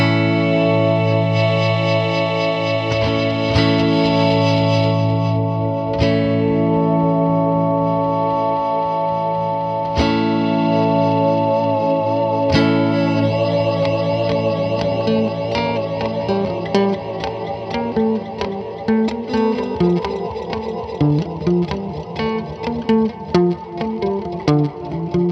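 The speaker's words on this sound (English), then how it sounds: "All right, pad echo. Crank up the feedback. Try some modulation all the way up." Guitar run through a Boss DD-200 digital delay on its pad echo setting, with feedback cranked and modulation maxed, producing lush, sustained chorused repeats that wash into one another over held chords, later broken into choppier picked notes.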